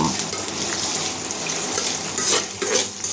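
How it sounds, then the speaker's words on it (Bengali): Chopped onions fry in oil with a loud, close sizzle while a utensil stirs and scrapes the pan in short bursts. "নেড়েচেড়ে আমি পেঁয়াজগুলোকে ভেজে নিচ্ছি"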